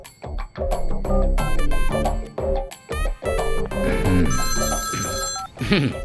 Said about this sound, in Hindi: ईश्वर को जरा फोन कर